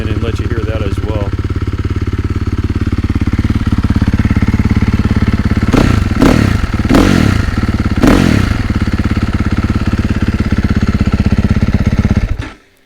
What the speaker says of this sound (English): I'm going to let you just kind of listen to the bike for a moment